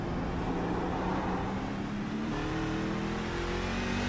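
Race truck engine in a sim racing game at Sonoma, a dense continuous roar with a low harmonic drone that slowly rises and wavers as the throttle eases, steady and loud throughout.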